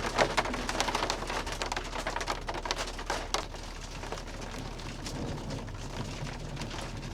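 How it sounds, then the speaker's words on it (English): Hail and rain pelting a Jeep off-road during a thunderstorm, a dense rattle of irregular close impacts that stays steady and fairly loud throughout, with no voices. "this little sprinkle storm turned into a thunderstorm, which has now turned into a hailstorm"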